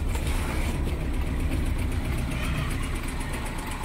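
A 1987 Suzuki Carry minibus engine idles steadily with a low, even rumble and a light ticking rhythm, heard close and alone.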